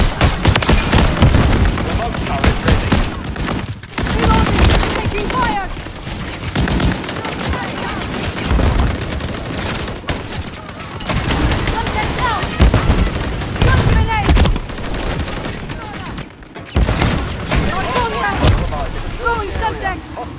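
Dense gunfire in Call of Duty Modern Warfare III, a first-person shooter game: rapid automatic bursts, heavy booms and explosions pile up continuously, with brief lulls and game voice callouts mixed in.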